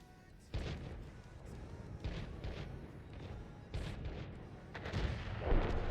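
Gunfire and booming explosions from a tank battle in a competitive video game match, a dense continuous barrage with repeated heavy impacts and bursts building in intensity, no talk over it.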